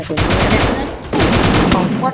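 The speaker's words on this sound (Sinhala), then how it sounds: "වෙඩි වරුසා ඇද හැලුණත්" Video game machine gun fire rattles in dense, rapid bursts, loud and close, with a brief pause between two long volleys.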